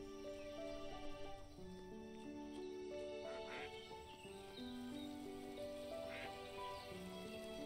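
Ducks quack in the farming video game Everdream Valley, a few soft calls scattered over a steady bed of in-game rain and gentle background music, faint and without speech.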